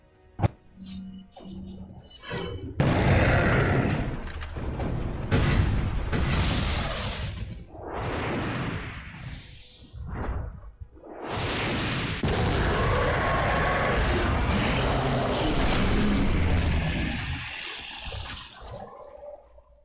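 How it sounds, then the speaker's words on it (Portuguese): Rocket launcher fire finishing off Lord Saddler in Resident Evil 4 (PS2): a sharp blast followed by heavy booming explosions and long rumbling, roaring bursts of destruction that fade out, no voices. "a Ada vai te jogar uma Rocket Launcher vermelha e você atira nele, finalizando o Lord Sadler"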